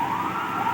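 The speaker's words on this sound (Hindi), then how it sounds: "ये सायरन नो बॉल का देखिए" A siren signalling a no-ball at an India vs Pakistan cricket match wails steadily in a short burst, a sustained electronic tone at moderate loudness.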